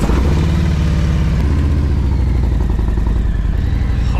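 A 2022 Harley-Davidson Road Glide packed with camping gear rumbles along on a ride, its engine a loud, close, steady low drone with slight shifts in pitch and no voices.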